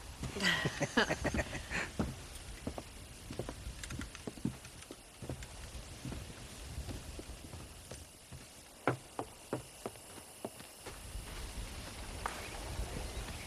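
Horse hooves in Red Dead Redemption clip-clop steadily at a walking pace, a brisk run of hoofbeats near and clear over a soft background hum.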